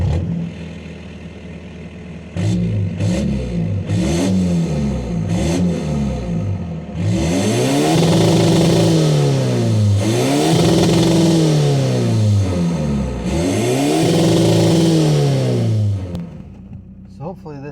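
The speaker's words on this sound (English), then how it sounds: "It's pretty fun to hear this turbo." A modified VW MK5 TDI diesel with a GTB2265 turbo and PD150 injectors revs up repeatedly, loud and close. Rising and falling sweeps carry turbo whoosh and spool over a steady engine drone.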